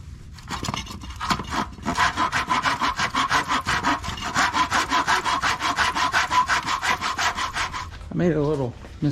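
Handsaw cutting through the wooden side pieces of a banner, steady back-and-forth rasping strokes in an even rhythm, close and fairly loud, with no talking.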